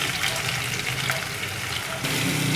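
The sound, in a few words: panch phoron, cumin, garlic and onion frying in oil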